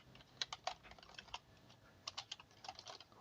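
Quiet, close keystrokes as code is typed on a computer keyboard, irregular clusters of soft clicks with short pauses between bursts, heard alone.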